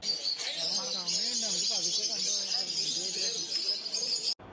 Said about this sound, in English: As if the finches weren't enough, we also heard noisy lovebirds.